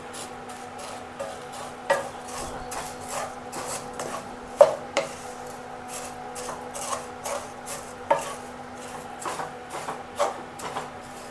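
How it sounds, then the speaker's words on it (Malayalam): Vermicelli being stirred into melted butter in a pan for kunafa: soft, quiet scraping and rubbing strokes with occasional sharper knocks against the pan over a faint sizzle, no voices. "ഇനി നമുക്ക് ആ സേമി അതിലേക്ക് തട്ടി കൊടുക്കാം ഒന്ന് ഇളക്കിയെടുക്കാം"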